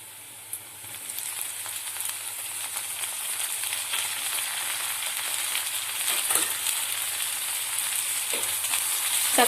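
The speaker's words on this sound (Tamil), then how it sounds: "தக்காளி நல்லா வதங்கணும்" Tomatoes sauté in a pan for prawn gravy, giving a continuous close sizzle with occasional soft stirring clicks, growing slightly louder over the stretch.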